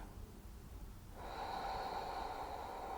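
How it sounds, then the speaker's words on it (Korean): A steady, fairly loud exhale of breath during a yoga stretch begins about a second in and continues smoothly to the end after a quiet start, with no talking. "마시고, 내쉬고"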